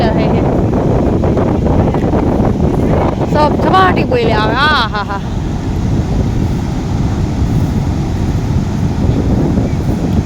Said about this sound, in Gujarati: કેવડા મોટા મોજા આવે છે આમ આખા ઊંચા થતા આવે હે મોજા